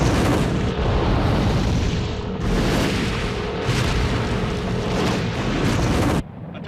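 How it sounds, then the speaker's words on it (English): A blown gas field erupts in a continuous roaring explosion, a loud broadband rumble sustained for several seconds with swelling surges, then cutting off abruptly near the end. "I reckon a gas field has been blown"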